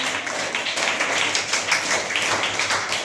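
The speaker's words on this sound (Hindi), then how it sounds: "ताली बजाइए जोरदार।" Schoolchildren in a classroom clap together loudly and steadily for several seconds, a dense, continuous patter of many hands.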